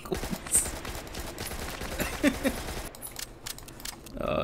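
A shotgun going off in a video game, several short sharp bursts scattered among mixed game noise while people talk over it.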